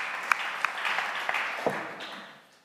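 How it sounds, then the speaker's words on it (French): A handful of scattered claps from an audience at a debate event, a few sharp, distinct hand strikes over a murmur that gradually fades away toward silence. "je voudrais qu'on l'encourage, qu'on le salue, s'il vous plaît, qu'on l'applaudisse"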